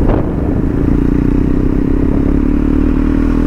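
A KTM Duke 250 motorcycle fitted with an SC Project exhaust runs steadily nearby, a loud, continuous low engine drone with a rough, rattling texture and no talking.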